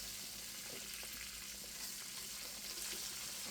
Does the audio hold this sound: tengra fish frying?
yes